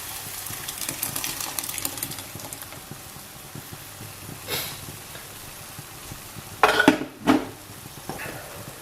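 Tomatoes are stirred into a Scotch bonnet chilli sauce mixture with soft scraping and clinking of a utensil against the bowl, ending in a few louder knocks.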